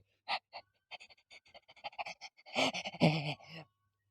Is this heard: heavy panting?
yes